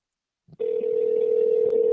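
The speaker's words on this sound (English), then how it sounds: "It's ringing." A steady electronic telephone tone sounds continuously after a brief click, loud and close.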